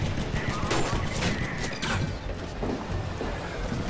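Rapid gunfire bursts from the Titanfall video game, a steady dense crackle of shots running throughout under busy game sound, with no clear voices.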